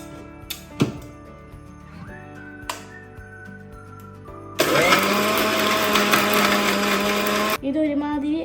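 A mixer grinder whirs loudly for about three seconds, blending tamarind and cloves for a homemade mehndi paste, with short clinks and brief motor bursts before it and a rattling restart after.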